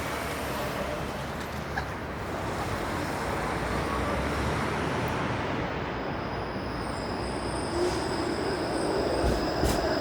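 A Toronto 504 King Street streetcar rolls past on its rails during a quiet morning, producing a steady, loud, close rumble of wheels and motors, with faint metallic wheel squeal appearing toward the end and no voices.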